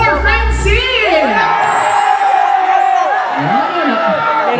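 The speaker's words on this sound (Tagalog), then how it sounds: "Malakas sa palakpakan at sigawan for Watts!" A festival crowd at the 10th Sadow Festival 2024 in Cabadbaran City, Agusan, roars with loud cheering, whoops and shouts that rise and fall throughout, while an amplified voice calls over the noise.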